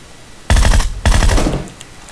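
Two loud bursts of automatic gunfire in an online battle-royale video game, each burst a rapid rattling string of shots lasting about half a second, separated by a brief gap and trailing off into quieter echoes.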